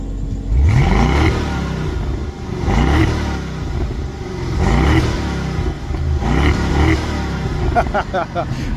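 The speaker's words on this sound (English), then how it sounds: "Let's get a little rev time with Trish." A BMW Alpina B6 engine is revved hard in four repeated bursts, each climbing and falling, loud and close with a steady idle rumble between them.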